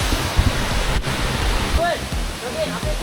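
Serapi waterfall pouring in a steady, loud broadband rush that fills the whole scene, with people briefly talking and exclaiming over it.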